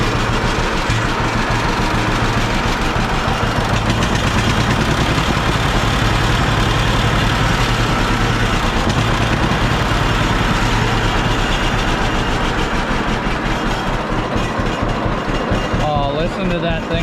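An old engine that needs choking to restart idles steadily after restarting, a loud continuous rumble close by with people talking over it.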